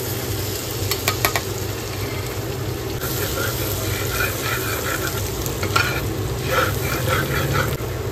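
Chopped garlic frying in melted butter in a pan, a continuous close sizzle with intermittent clinking stirs of a spoon against the pan, and a voice talking over it at times.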